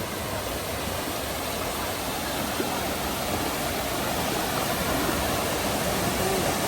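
A mineral hot springs waterfall pours into a warm pool at Glenwood Hot Springs, a steady, dense, close rushing wash of falling water that does not let up, with no voices.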